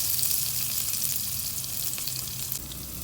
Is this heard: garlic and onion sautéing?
yes